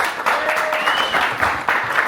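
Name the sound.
audience applause at show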